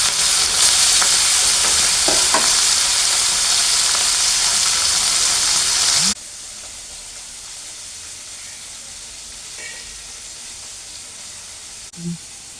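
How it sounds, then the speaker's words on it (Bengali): Small mourala fish hit hot oil in a pan and sizzle loudly and continuously for several seconds, then settle to a softer frying hiss with faint stirring clicks. "তেল গরম হয়ে গেছে, এবার মাছগুলো ছেড়ে দিলাম।"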